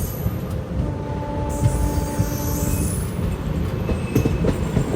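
An express train with LHB coaches, the Grand Trunk Express, rolls past steadily with low rumbling wheels and faint squeals, the rail noise loud and continuous throughout.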